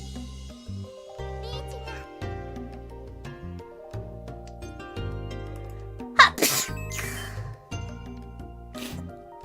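A sharp sneeze bursts out once, loud and close, over steady background music and light game sounds during an online mahjong match.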